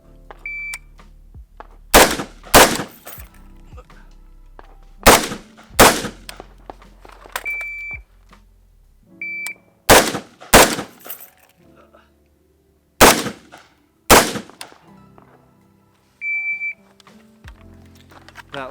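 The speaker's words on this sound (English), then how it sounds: "I have to do 2 shots standing, 2 shots kneeling." Sharp, loud rifle shots from an M16A4 fired from standing and kneeling positions on a Marine Corps course of fire, arriving in spaced pairs with quieter gaps and faint electronic beeps between them.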